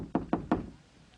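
Three sharp, evenly spaced knocks on a front door, loud and close, followed by quiet.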